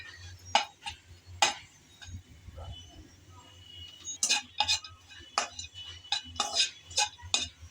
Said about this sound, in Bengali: তাই আমি নেড়েচেড়ে ভালোভাবে সবটুকু উপকরণ ভেজে নিচ্ছি।